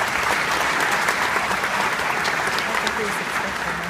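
Audience gathered at a speech in the Tantramar region breaking into applause, a dense, steady clapping from a sizable crowd that fills the whole stretch, with a voice faintly underneath.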